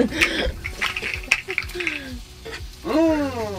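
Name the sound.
beef steaks frying in butter in a pan, being turned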